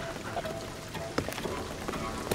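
Rain patters steadily on surfaces in Shadow of the Tomb Raider, a soft continuous hiss with scattered droplet taps, fairly faint.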